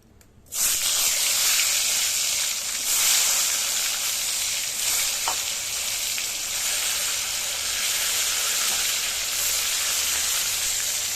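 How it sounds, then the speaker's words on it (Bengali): Eggplant slices frying in a pan over a lit stove, a loud, steady sizzle and hiss running without a break for the whole stretch, with no talking. "চলো বেগুনটা ভেজে নেই আগে"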